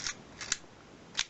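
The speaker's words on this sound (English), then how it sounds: "Shutter works great." A Yashica Minister D film camera's mechanical shutter fires in three sharp, quiet clicks, close up, spaced unevenly across about a second with near silence between them.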